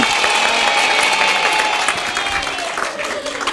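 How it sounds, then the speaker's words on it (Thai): Students and staff at Mae Rim Wittayakhom school in Thailand applaud during a school-visit show, giving a dense, steady wash of clapping with crowd noise and some voices mixed in for a few seconds. "อะเสียงปรบมือหน่อย"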